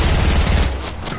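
Gunfire in a video game: a dense, rapid burst of shots rattling together, loud and close, then cutting off abruptly after about a second.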